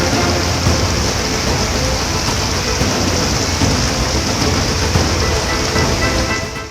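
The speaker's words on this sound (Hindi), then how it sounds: "बद्रीनाथ की मुख्य सड़क पर बरसते पानी का रिश्ता" Heavy rain pours steadily onto the main mountain road at Badrinath, a loud, dense, unbroken hiss with no talk, holding constant for the whole stretch before easing slightly at the end.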